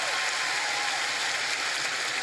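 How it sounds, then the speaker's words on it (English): A large audience applauds in a loud, thick, unbroken roar of clapping that stays constant throughout, with no voices standing out. "Dude, round of applause."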